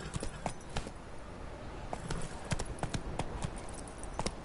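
Horse hooves clip-clop in quick, uneven, close beats that run continuously over a low background.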